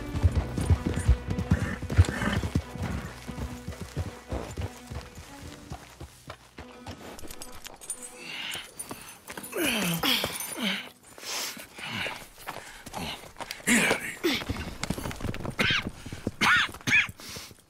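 Horses in the video game Red Dead Redemption 2, with clip-clop hooves and a whinny heard at close range; the hoofbeats grow busier in the second half, mixed with game ambience and brief voices.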